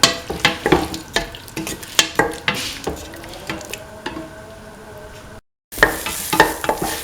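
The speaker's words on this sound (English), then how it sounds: "Keep on sauteing." Winter melon, tomato and green peas with salt sautéing in a pan, a steady sizzle broken by repeated sharp scrapes and clacks of a stirring spoon against the pan, close and fairly loud, with a brief dropout near the end.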